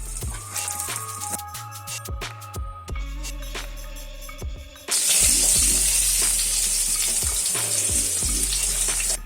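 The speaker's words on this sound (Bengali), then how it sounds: "এরপরে আমার এই কেটে রাখা আলুগুলোকে আমি ভেজে নিব।" Cut potatoes dropped into hot oil seasoned with salt and turmeric: knocking and clattering come first, then a sudden loud, steady frying hiss takes over and keeps going up close, with no talking.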